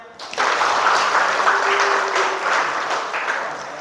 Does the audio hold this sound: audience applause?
yes